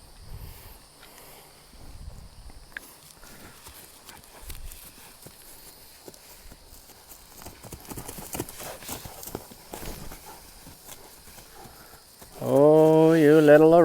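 A small Arabian horse on a lead rope walks near a gate, its hooves clip-clopping in an uneven rhythm at moderate distance, with faint movement noise and a brief louder burst at the end.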